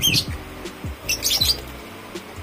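African lovebirds in a cage give several sharp, close chirps and squawks in quick, irregular bursts with short pauses between them.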